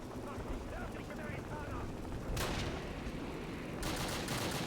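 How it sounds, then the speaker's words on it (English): Grenades go off in Call of Duty (2003) as two sharp blasts a little over a second apart. Each rings out above steady game noise, and someone talks through the first part. "So the idea is to throw a grenade up the top floor and clear out that top floor."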